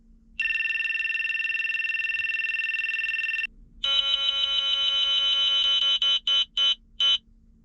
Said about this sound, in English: the audio tones are still the same Beltronics tones that we used to have before